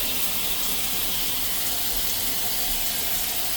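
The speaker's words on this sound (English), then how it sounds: "So that's the shower." Shower running in a Carnival Venezia cruise ship balcony cabin bathroom, a steady, even hiss of water spray that fills the whole stretch, close and uninterrupted with no talk.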